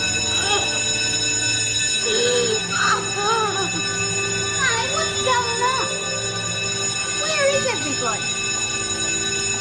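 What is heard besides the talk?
prison alarm bell ringing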